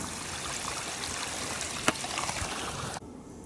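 River flowing through woods at Pablo Nature Center as it starts to freeze over, a soft steady babble of running water with one brief sharp click before cutting to near quiet.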